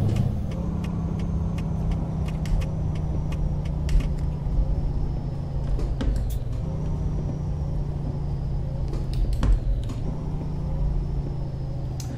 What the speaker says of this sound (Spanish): escuchemos al motor